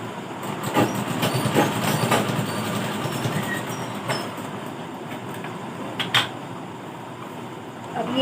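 Sewing machine running a stitch along a folded seam of old saree fabric being made into a lehenga skirt, a steady close mechanical whir with faint ticking.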